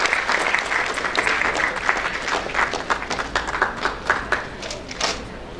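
Applause from an audience at an awards ceremony for Indore folk artists, honoring a very young boy. Many hands clap together in a steady, moderately loud patter that lasts throughout and thins slightly toward the end.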